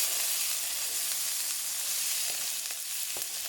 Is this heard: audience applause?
no